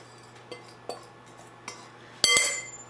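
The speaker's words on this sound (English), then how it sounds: "we'll take our fork and mix that around a little bit" A fork clinks against a bowl while salt is stirred into pumpkin pie ingredients, giving a few light scattered taps and then a brighter, louder scrape-and-clink burst near the end.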